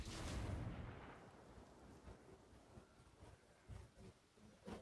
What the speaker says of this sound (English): everybody's gonna look for that explosion because one of their guys, Threw a grenade